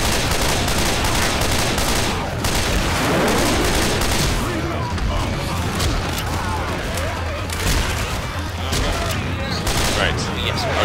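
Sniper rifle gunfire in Left 4 Dead 2 during a chaotic co-op fight, sounding as dense, continuous game combat noise with scattered shots and booms throughout, mixed under player talk.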